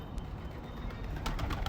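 Pigeons coo softly and steadily, with bird calls in the background, heard around a horse stable.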